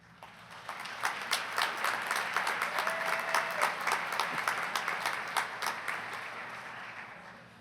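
A community college commencement audience claps in a sustained round of applause, many crisp hand claps rising quickly, holding, then tapering off.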